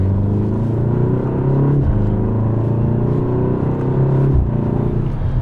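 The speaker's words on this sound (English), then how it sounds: "you get these little burbles and overrun on the exhaust" A BMW M235 Gran Coupe engine drones steadily with rising and falling revs, gear changes dipping the pitch, close and loud, with light crackling overrun burbles from the exhaust.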